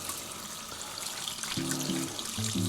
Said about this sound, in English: So make sure you wash your hands